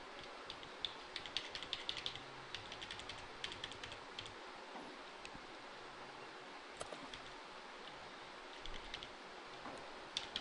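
Quiet, scattered taps of computer keyboard keys, light and irregular, with faint background hiss and no talking.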